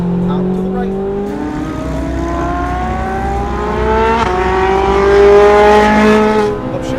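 An exotic race car on a Las Vegas track accelerates hard out of a turn, its loud engine note climbing steadily in rising harmonic sweeps, close and continuous throughout.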